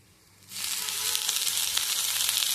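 Chopped spinach drops into a pan of browned onion and green chili over low gas, setting off a loud, steady broadband sizzle that bursts in after a quiet start and holds evenly to the end.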